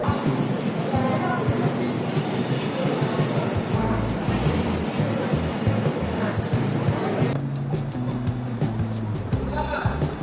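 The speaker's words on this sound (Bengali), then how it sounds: "আমাদের ট্রেন এখন দাঁড়িয়েছে এখানে" The Doon Express stands halted at Serampore station, a constant rumble and hum of the idling train and platform bustle, with a high whine that cuts off partway, and voices around it.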